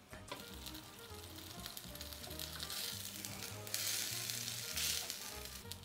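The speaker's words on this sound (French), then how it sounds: "Et là, on va laisser cuire, laisser réduire un tout petit peu." A masala tomato gravy for masala eggs bubbles and sizzles in a pan, a constant close frying hiss that swells in a couple of brighter bursts, with no voices over it.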